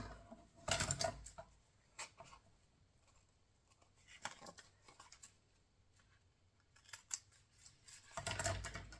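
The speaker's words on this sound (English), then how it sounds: "Let's get my fabric scissors." Fabric scissors snip through cloth in several crisp bursts, close up and fairly quiet, with pauses and faint handling noise between cuts.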